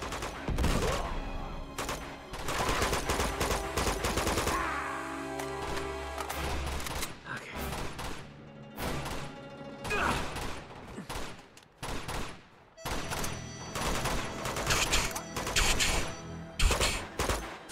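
Gunfire in Uncharted 2 rattles out in dense, loud volleys of rapid shots, with short pauses between bursts, across the whole stretch.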